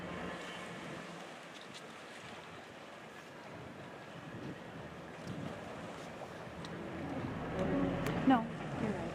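A tour boat moving across water around the Apostle Islands near Bayfield, Wisconsin, steady broadband wash and wind rumble throughout, swelling louder near the end.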